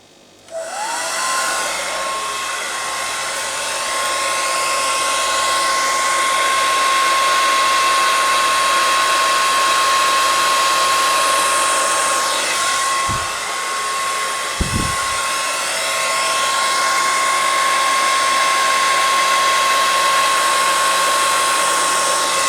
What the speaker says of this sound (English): So I have a new hairdryer and I really don't know how it's going to blow.